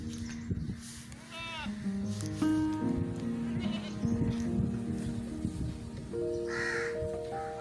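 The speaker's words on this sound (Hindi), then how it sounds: "हाँ, कौवा भी बोल रहा है इधर।" A crow caws several times outdoors around a goat pen in cold weather, the calls mid-distance over a busy background of goat kids bleating and occasional voices.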